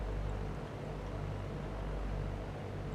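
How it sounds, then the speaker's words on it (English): A light aircraft engine drones steadily in a flight simulator, a constant low hum with harmonic bands and no gaps, filling the whole stretch at moderate volume. "Engine sounds good."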